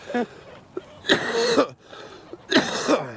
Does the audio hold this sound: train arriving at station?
no